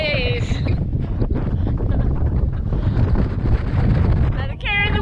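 Strong wind buffeting the microphone on a Pacific Crest Trail mountain section, a steady loud roar throughout with brief voices and whoops at the start and end.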